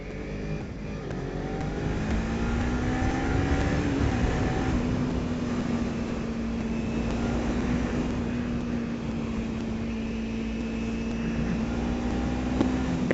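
A Kawasaki Ninja 300 sport motorcycle engine is pulled high into its revs, holding a steady, loud droning note with a slight rise early on and a continuous rasp underneath.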